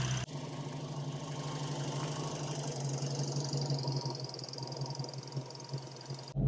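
A 1968 Mustang engine with Holley Sniper EFI idles steadily at close range, a low constant rumble with a faint knocking pulse running through it, and no voices.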